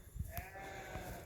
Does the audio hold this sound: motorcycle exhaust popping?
no